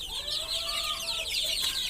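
Young country chickens about one and a half to two months old, kept shut inside a house, cluck and chirp continuously at close range, several birds overlapping.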